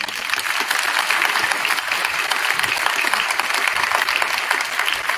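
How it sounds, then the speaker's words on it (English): A Veterans Day program audience gives sustained applause for the school bands, dense and even clapping at close, fairly loud level for the whole stretch. "we have one more round of applause for all of our bands"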